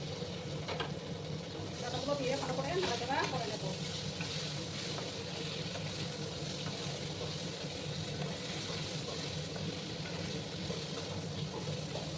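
Bottle gourd stalks frying in a pan with steady, dense sizzling and a faint watery hiss, with occasional soft stirring scrapes. The sound is close and continuous throughout, with no clear voice.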